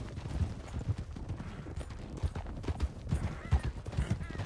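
Horse hooves clip-clop steadily in a medieval roleplay video game, a close, irregular rhythm of clattering steps at moderate volume with a soft low background beneath.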